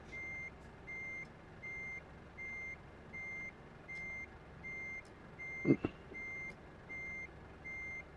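Truck reversing alarm in a truck driving game with an automatic gearbox, a steady series of evenly spaced electronic beeps repeating about every 0.7 seconds over a low engine rumble, with a brief thump near the end.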